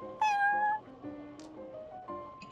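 A single clear, close cat meow from the Genshin Impact Cat's Tail tavern rises and falls over about half a second, followed by soft tonal notes in the background.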